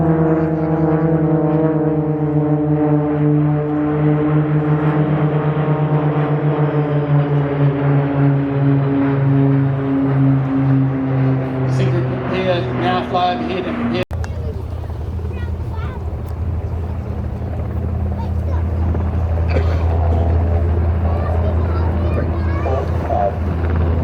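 An RNZAF aircraft makes a pass at the Warbirds over Wanaka 2024 air show. A loud, steady turboprop drone carries a rising and falling harmonic whine with some wind buffeting, and a commentator speaks over the top throughout.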